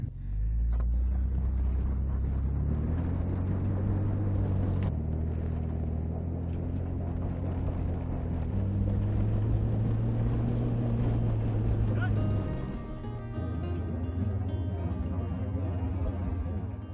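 An off-road vehicle spins its wheels with no traction on an ice slick, its engine revving in a loud sustained drone whose pitch rises and falls, with a steadier tone near the end.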